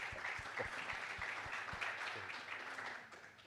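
Faint round of audience applause in a conference hall at a green hydrogen and German energy transition presentation, a soft scattered patter of clapping heard from a distance.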